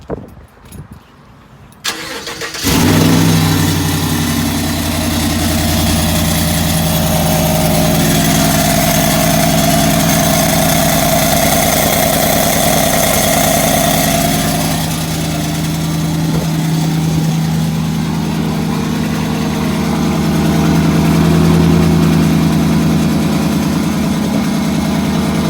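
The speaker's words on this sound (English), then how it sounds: "the noise is coming from here because of the cutout" A car engine with an electric exhaust cutout open and one catalytic converter removed starts with a sharp catch and settles into a loud, throaty idle, rumbling steadily close by with slight revving swells.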